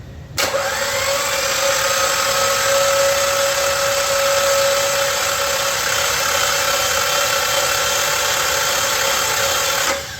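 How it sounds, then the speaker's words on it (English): A car engine turns over on its starter motor, the crankshaft spinning in a steady, loud, continuous drone with a whining tone that holds for about ten seconds before cutting off, with no voices over it. "That's what a crankshaft looks like when you're turning the starter motor on"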